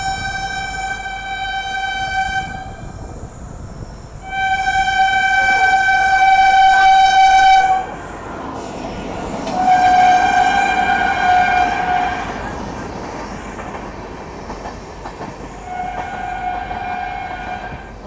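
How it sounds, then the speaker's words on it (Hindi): An Indian Railways train overtaking on the parallel track beside a late-running Patna–New Delhi special, loud rumbling wheels with repeated long horn blasts that swell, fade and return nearby. "और ये पता नहीं कौन सी ट्रेन है, बिल्कुल पैरेलल में ओवरटेक कर रही है।"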